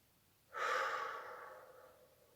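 One soft, long exhale through the mouth during a relaxation exercise, starting abruptly, then fading gently over about two seconds in a quiet room.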